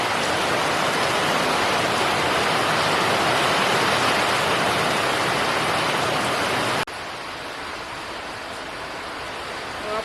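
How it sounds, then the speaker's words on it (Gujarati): Heavy rain pouring down in a village, a dense, loud, steady hiss that suddenly drops to a slightly quieter but still continuous downpour. "અને વરસાદ તો શું ફૂલ શરૂ થઈ ગયો છે"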